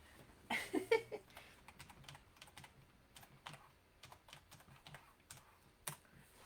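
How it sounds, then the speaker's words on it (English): Fingers tap a computer keyboard one-handed while typing a website address, giving irregular, close, quiet clicks in short bursts with pauses between them. "I'll just type my website in, if I can type one-handed"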